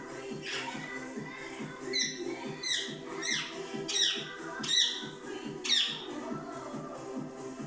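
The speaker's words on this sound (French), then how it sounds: "Excusez-moi pour l'oiseau" Bird squawking repeatedly in short, sharp bursts about every second, fairly close and loud over a steady background of indoor noise during an exercise class.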